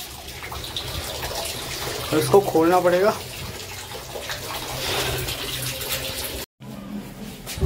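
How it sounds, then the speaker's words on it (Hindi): Water running and trickling from a leaking household tap, a steady splashy flow heard under someone talking nearby, cutting out briefly near the end. "नल लीक हो रहा है"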